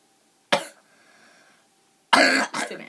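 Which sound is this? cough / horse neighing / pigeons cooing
cough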